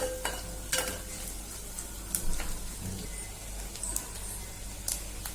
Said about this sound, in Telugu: చూడండి ఇలా బాగా ఫ్రై చేసుకోవాలి నీచు వాసన రాకుండా బాగా ఫ్రై చేసుకోండి